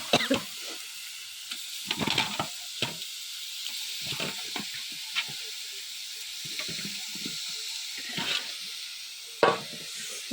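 A spoon scrapes and stirs through frying onions, shallots and chili spices for chicken curry, soft sizzling running underneath the irregular stirring strokes.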